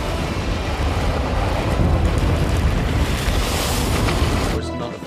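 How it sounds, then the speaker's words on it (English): Rough ocean surf and strong wind roar continuously near a yacht by a rocky shore, a dense, loud wash of crashing water and buffeting gusts that drops off abruptly at the end. "The waves are simply too powerful."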